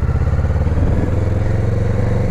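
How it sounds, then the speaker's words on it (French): A Kawasaki Ninja 650 motorcycle being ridden on a road test, its engine giving a loud, steady, close throbbing drone with rapid pulsing firing beats and wind rush throughout. "je suis à bord de la Kawasaki moi aussi, la Ninja"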